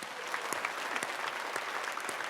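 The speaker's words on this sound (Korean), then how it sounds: "그 하나님 앞에 우리 영광의 박수로 하나님 앞에 찬양을 합시다." A church congregation claps together in a dense, steady round of applause that stays even for a couple of seconds.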